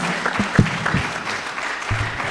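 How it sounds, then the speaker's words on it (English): A town hall meeting audience claps steadily in dense, continuous applause at moderate distance, with a few louder thumps standing out. "Let's keep clapping for them until they take their seat"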